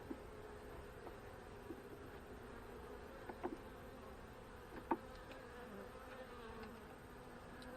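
Faint, steady hum of honey bees buzzing close by, with a few brief louder passes and light clicks over a quiet background.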